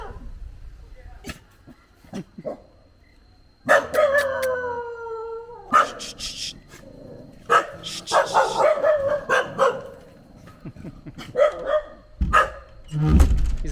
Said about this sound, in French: Ils aboient et tout, mais ils ont pas une tête de méchant.